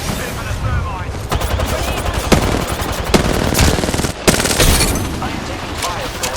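Rapid video game gunfire rattles in dense bursts alongside thermite blasts, loud and continuous through the whole stretch, with game voice lines mixed underneath.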